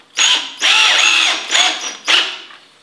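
Cordless drill driving 1.5-inch screws into a wooden block set against a chair seat blank, four short close whirring bursts of rising and falling pitch with brief gaps.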